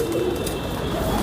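A soft pigeon being held in the hand, with a close, low cooing and rustling that continues throughout the short moment.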